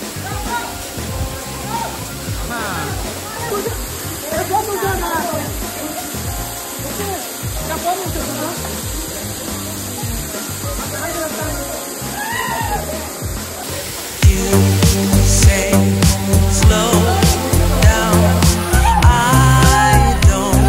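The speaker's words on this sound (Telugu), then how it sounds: "మొత్తానికి వాటర్ ఫాల్ అయితే చూస్తాము." Bayyaram (Pedda Gutta) waterfall in Mahabubabad, a steady roaring rush of falling water that swells louder partway through, with people talking over it.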